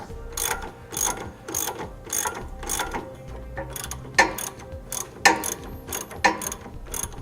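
A ratchet with an 18mm socket tightens the end links of a front-end installation on a 2015 Winnebago Minnie Winnie motorhome, giving close bursts of rapid clicking in repeated strokes with brief pauses between them.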